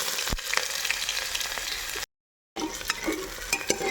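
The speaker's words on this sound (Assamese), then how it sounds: "তেল গৰম হৈ গ'ল এতিয়া ইয়াতে দিম পিঁয়াজ" Chopped onions hitting hot mustard oil in a pan, a steady close sizzle with a few stirring clinks and a brief silent gap midway.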